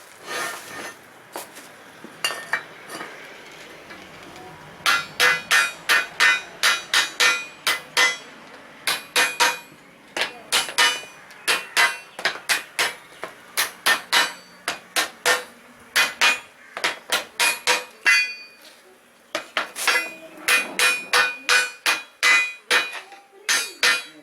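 Rows of nails are hammered down into a channel, the strikes coming in quick rhythmic bursts with short pauses between groups, loud, close and sharp, with no talking.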